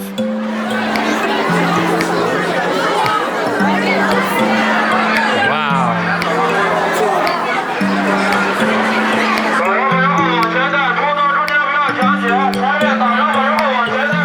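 Dense babble of a large crowd of visitors at the Xi'an terracotta warrior excavation, steady and loud throughout, with overlapping voices, children's shouts and a constant hubbub.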